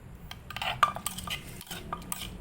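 A pestle pounds and scrapes Thai papaya salad in a mortar, giving irregular knocks and clattering scrapes at close range, some with a faint ringing edge, with no voices.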